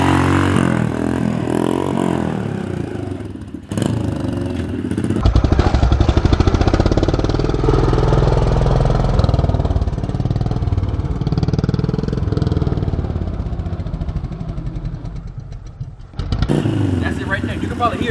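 A Honda CRF125F dirt bike engine drones and revs during a beginner wheelie, with the rider's shoes dragging on the ground and someone talking over the engine.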